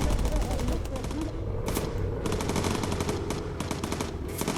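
A bomber gunner's machine gun hammers away in the video game Bomber Crew, firing long rapid bursts of close, loud rounds over constant engine drone, with a voice speaking faintly beneath.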